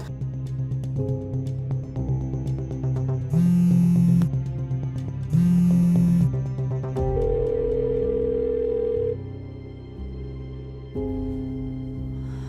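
Phone call ringing unanswered, a steady electronic tone and ringback pattern repeating for several seconds with a few brighter beeps, loud and close, with no one picking up and no talking.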